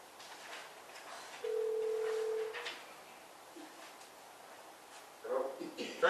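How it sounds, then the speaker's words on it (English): A telephone line on a town board meeting conference call, a single sustained electronic tone lasting about a second over quiet room noise, followed later by brief voices. "I have to dial one to call alone."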